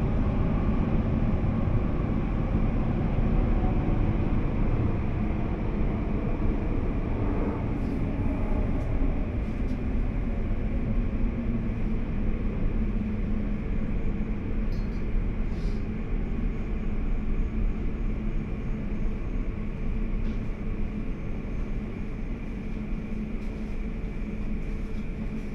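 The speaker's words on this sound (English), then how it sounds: "This is the train to Abbey Wood." An Elizabeth Line train to Abbey Wood running steadily between Heathrow and Bond Street, with a continuous low rumble and rolling wheel noise throughout, plus faint higher squeals and clicks along the track.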